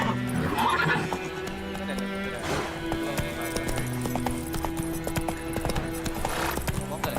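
Horse galloping in The Witcher 3 video game: rapid rhythmic hoof clip-clops with a whinny near the start, set against game music, with a person talking over it.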